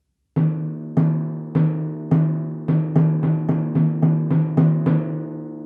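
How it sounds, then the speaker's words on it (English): Staccato strokes on a timpani give a series of crisp, sharply attacked notes, slow at first then quicker in a rhythmic run, each with shorter ring, played close without any talking. "a staccato stroke, which uses a more firm grip and a quicker stroke to give a clear percussive articulation"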